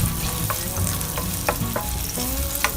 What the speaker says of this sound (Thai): ผัด เห็ดหอมให้สุก ไว้ก่อน